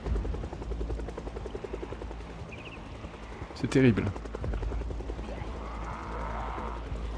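A helicopter in the game Project Zomboid gives off a steady low rotor chop throughout. Someone speaks French over it briefly, with a few other faint game noises mixed in.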